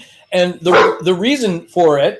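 A dog barks in a quick run of four loud, close woofs and yips, heard over someone talking indoors.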